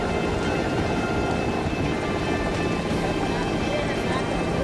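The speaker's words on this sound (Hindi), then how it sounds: "रेस्क्यू के लिए आए हेलीकॉप्टर के पंखों की सनसनाती हवा।" A rescue helicopter's rotor whirs continuously over a flood in India, with a loud, broad rushing roar and steady wind buffeting that fills the scene without pause.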